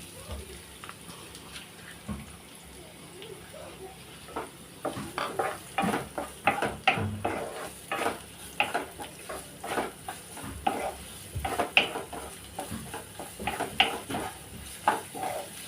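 One large onion sautés in a pan to make chicken pizza fingers, heard as a low sizzle under repeated close clinks and scrapes of a utensil against the pan, with the stirring growing busier and more rhythmic partway through.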